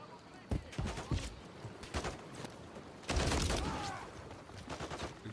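Gunfire in Call of Duty Modern Warfare 3's campaign: scattered sharp shots and short bursts at close range, one heavier sustained volley near the middle, with intermittent talk mixed in.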